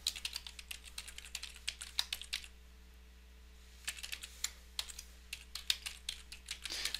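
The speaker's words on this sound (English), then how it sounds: "So now, of course, we type our email in here." Someone types on a computer keyboard, with quick bursts of close key clicks, a brief pause near the middle, then more rapid typing over a faint steady electrical hum.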